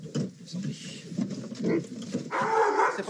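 A police dog barks in sharp, repeated bursts at a bag during a drug check in northern France. The barks are close and loud, with some background noise.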